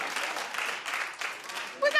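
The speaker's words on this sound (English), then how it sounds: "and people clap" Studio audience on a daytime talk show breaks into clapping, a steady broad wash of applause that holds for about two seconds, with a brief louder swell at the very end.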